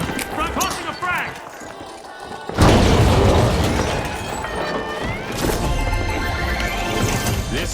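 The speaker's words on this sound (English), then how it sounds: "Tossing a frag!" A frag grenade bursts in a shooter video game, a sudden loud blast roughly a third of the way in that dies into rumbling debris and game noise, with a voice talking over it.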